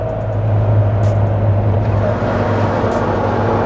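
A C6 Corvette tuned to 750 rear-wheel horsepower idles steadily at about 3,000 RPM, a loud, continuous low engine drone with a steady hum and no voices.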